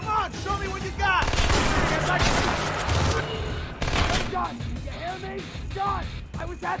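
Rapid bursts of gunfire crackle through a Splinter Cell Conviction firefight, with loud volleys and booms close by and shouting voices mixed in throughout.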